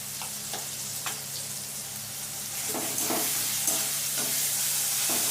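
A paste of white and black mustard seed ground with green chilli sizzles in hot oil in a pan, with the steady hiss broken by several scraping stirs of a spoon, fairly close and with no talking.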